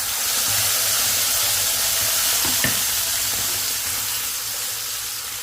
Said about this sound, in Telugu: ఇప్పుడు నేను ఈ పేస్ట్ వేసేస్తున్నాను